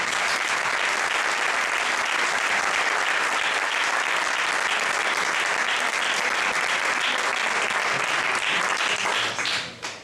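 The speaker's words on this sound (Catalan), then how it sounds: "Un altre aplaudiment" A ceremony audience applauds a joint prize winner at the Toni Cobos award event, a steady, dense wash of clapping that fills the room continuously before tapering off at the very end.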